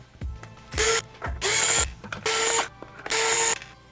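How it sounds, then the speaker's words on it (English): Screws backed out of the rear of a toy droid remote with a small screwdriver, four loud close bursts of ratcheting clicks separated by brief pauses and faint handling taps. "the first thing we're going to do is remove the 4 screws on the back of the remote"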